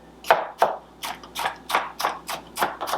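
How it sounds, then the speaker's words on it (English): A knife chops food into little cubes on a cutting board while a grain salad with farro, peas and green beans is prepared, about ten crisp, evenly spaced close chops. "I cut it into like, I don't know, like little cubes"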